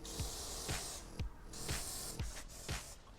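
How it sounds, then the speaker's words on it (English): Clear wax oil sprayed from an aerosol can onto cut metal edges during a car door repair shield fitting: a run of short, close, hissing bursts with brief gaps, about six in quick succession. "Give it a good spray, any of the cut metal edges."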